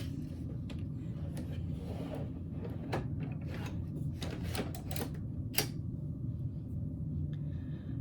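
An embroidery frame being attached to an embroidery machine, giving faint plastic clicks and a sharper snap over a low, steady room hum.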